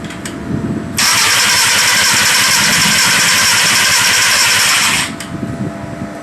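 A Volkswagen Corrado fitted with a used replacement part cranks over for about four seconds: a loud, steady starter whir and engine churn that begins abruptly and cuts off, with lower rumbling before and after.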